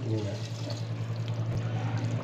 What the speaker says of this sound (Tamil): அதனால தான் ரெண்டு கிளாஸ் தண்ணி ஊற்றிருக்கோம்.